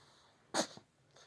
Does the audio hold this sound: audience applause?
no